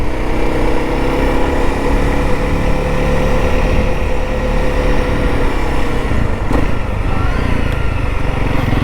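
A Honda CRF300L motorcycle on a sunny country ride from Slaidburn toward Clapham Station. The engine and wind roar loud and steady throughout, close to the rider, with no voices.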